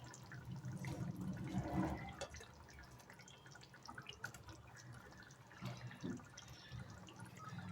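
Morola fish and aubergine curry boils in a pan on a raised gas flame, giving a faint, steady bubbling and dripping simmer with no voices.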